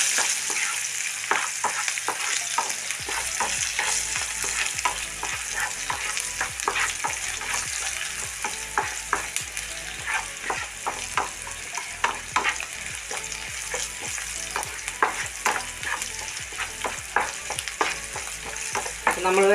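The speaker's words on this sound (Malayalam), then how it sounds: "അതുകൂടി ഒന്ന് ഫ്രൈ ആയേക്കാം." Three green chilies and sliced onions fry in a pan for ginger pachadi, giving a continuous close sizzle broken by frequent scraping stirs throughout, with no talking.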